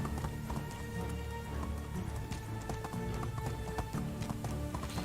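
A horse gallops in the medieval survival game Medieval Dynasty, its hooves clip-clopping in a quick, continuous rhythm. The sound is fairly quiet and sits under a low ambient game backdrop.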